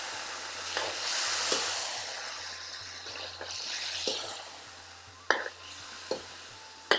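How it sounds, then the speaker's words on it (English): Steady sizzling of on-the-bone karahi curry frying in a pan over high burner heat, with occasional sharp clinks and scrapes of a utensil stirring, close by. "all that sizzling noise, absolutely beautiful"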